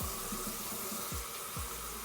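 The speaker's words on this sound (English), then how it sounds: "Then you're gonna start putting the water in." Tap water pours into a pitcher for Kool-Aid, a continuous close splashing flow with small gurgling pulses.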